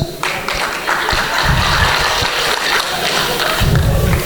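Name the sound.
audience clapping at stand-up show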